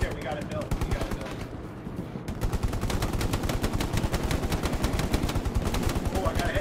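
Rapid machine-gun fire in the World War II shooter game Hell Let Loose, dense sustained bursts of close, loud shots after a brief quieter start, with a voice speaking over the battle.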